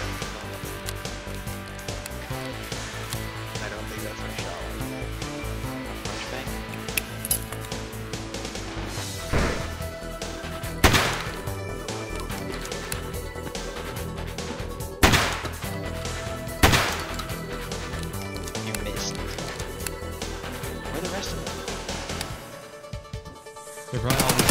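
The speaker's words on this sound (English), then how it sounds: "my shotgun seemed to have been staggering them somehow by shooting them multiple times in the leg" Shotgun blasts fired at Reshala's guards in Escape from Tarkov, with several loud, sharp reports spaced a few seconds apart over a dense, continuous background.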